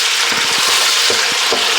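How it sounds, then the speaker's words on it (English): Chopped onions sweating in melted lard in a pan give a steady, dense sizzle that fills the whole moment, with small low bubbling pops underneath and no talking. "We're just going to start to sweat down some onions. Now in that pan, I'm using a little lard."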